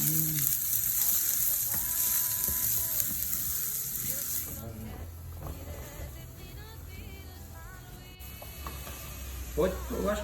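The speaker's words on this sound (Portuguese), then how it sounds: "Eu vou colocar a minha cebola dentro agora." Chopped onion frying in butter and olive oil in a pan gives a steady sizzle and crackle that is loud at first, then settles, with a person talking intermittently over it.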